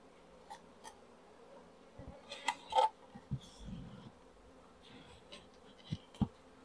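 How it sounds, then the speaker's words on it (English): Flying honey bees buzz around a hive during a hive split, a steady low drone with scattered louder passes as individual bees fly close to the microphone, under faint knocks and handling sounds. "All the flying bees will obviously leave here in their own time and then go back to their main home."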